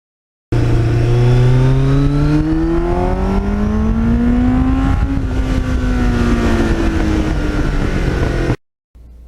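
Kawasaki Ninja motorcycle with a Muzzy exhaust revving hard, a loud close engine whine climbing steadily in pitch for about eight seconds like a race car, then cutting off abruptly.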